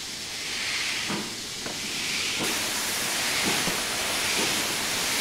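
Open cylinder cocks on a BR Black 5 steam locomotive in Train Simulator on the West Highland Line South, a loud continuous hiss of steam with a few soft knocks underneath.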